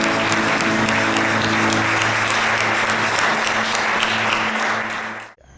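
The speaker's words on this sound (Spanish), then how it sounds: "Le damos un aplauso al Señor." Sustained applause in a church after a closing prayer, a dense steady wash of clapping from a congregation that fades out at the very end.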